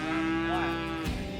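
Cattle mooing: one long, low, drawn-out moo, close and fairly loud, with no talking over it.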